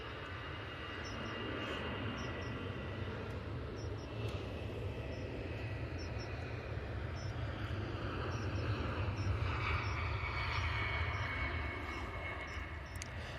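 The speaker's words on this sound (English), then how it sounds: "A320 off to Belfast." An Airbus A320 airliner departs for Belfast, its jet engines producing a steady, broad roar that rises and is sustained throughout at a moderate distance, with occasional faint high chirps in the background.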